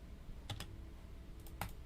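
A short burst of keystrokes on a computer keyboard as a word is typed, a few soft clicks close and quiet against faint background.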